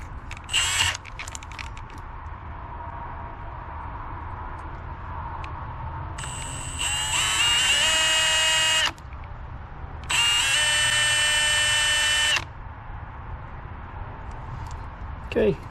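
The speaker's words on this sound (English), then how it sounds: "Let's go and clean up with the drill." Electric drill whirring in two bursts of about two and a half seconds each while cleaning out an ignition part on a 2004 Acura TL, with quieter mechanical handling noises between and around them.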